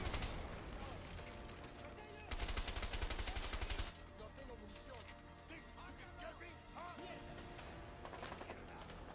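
Grenade launcher fire from the video game A Way Out: heavy blasts in a dense burst, with a loud sustained barrage of gunfire and chaotic combat noise, voices talking over the action.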